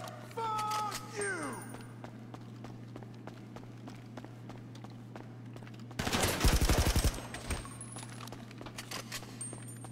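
Rapid burst of automatic gunfire in GTA V during a cargo ship robbery at a salvage yard, loud and dense for about a second, after quieter game effects, swooping tones and scattered clicks over a steady low hum.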